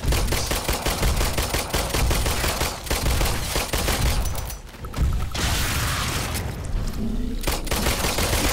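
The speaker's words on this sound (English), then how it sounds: "I gotta start shooting it now." Rapid gunfire in the PlayStation VR shooter The Brookhaven Experiment, with dense bursts of shots in a steady, loud stream that barely pauses over several seconds.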